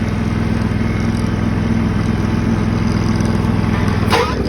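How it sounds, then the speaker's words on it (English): A John Deere lawn tractor's Kawasaki engine runs steadily at a loud, even idle with a low rhythmic throb, then a brief clatter near the end. "listen to that John Deere Kawasaki motor fire right up"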